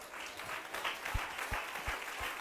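Church congregation clapping during a sermon: a steady wash of hand claps with a few heavier beats in rhythm, close and fairly loud, with no voice over it.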